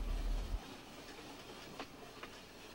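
A mountain railway train runs on its rails near Montreux, Switzerland, on the route up toward the Rochers de Naye summit, heard as a faint, steady rolling rumble with a few soft wheel clicks.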